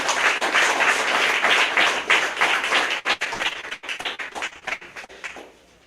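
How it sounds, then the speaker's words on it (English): Audience at a teenager's book launch breaks into applause, a burst of dense clapping that thins into scattered individual claps and fades out by the end. "Let's give her a round of applause."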